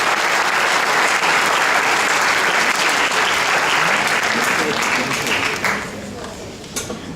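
An awards-ceremony audience at a school drama final gives a dense, loud round of applause that thins out toward the end, with crowd voices mixed in.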